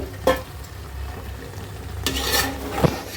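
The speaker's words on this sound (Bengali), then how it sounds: "আমি ছোটো করে মাংস কেটে মশলার সাথে মানে কষিয়ে নিচ্ছি" Small pieces of meat and papaya being stir-fried with spices in a pan, with a low continuous sizzle broken by a few louder spatula scrapes and stirring bursts near the start and toward the end.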